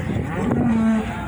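A single long, low cow moo at a cattle ranch, loud and close, sustained for most of the moment over steady outdoor background noise, with no talking.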